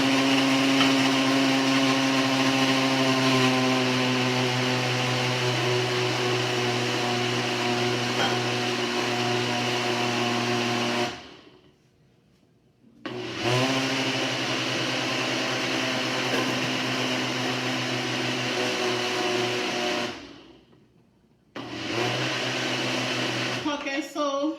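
Kitchen blender whirring as it purees pineapple and ginger into juice, a loud steady motor drone with harmonic whine, cutting off twice briefly before restarting.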